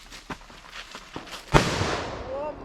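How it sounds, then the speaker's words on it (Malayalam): Outdoors at a Christmas celebration, a single firecracker bursts with a sharp loud crack, preceded by faint scattered pops and followed by a ringing decay. "വെടിപ്പടക്കമാണ് ഗായ്സ് ആ പൊട്ടിയിരിക്കുന്നത്"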